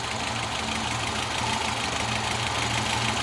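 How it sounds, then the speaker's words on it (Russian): Moskvich 412 car engine idling steadily after an oil change, a continuous close, loud running drone with a slight uneven knock throughout and no speech. "Вот так должен работать идеально москвичевский мотор."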